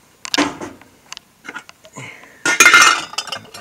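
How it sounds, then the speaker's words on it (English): Enamel pots and pans clinking and clattering as they are handled inside a camper, several sharp metallic knocks followed by a louder burst of rattling near the end. "there's all kind of pots and pans"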